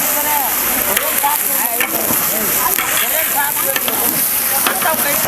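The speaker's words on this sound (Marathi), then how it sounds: "कांदा लालसर होऊसपर्यंत आहे ना आता परतून घ्यायचा आहे" Onions sizzle steadily as they are sautéed in a pan over a village wood-fired stove. The frying crackle is loud and continuous, with bits of stirring and someone talking over it.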